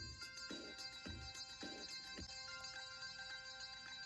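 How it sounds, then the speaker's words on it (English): A high-pitched piano loop plays within a quiet, dense mix, repeating bright notes over a pulsing low beat that thumps at a steady tempo. "So there's this part here, it's a piano loop"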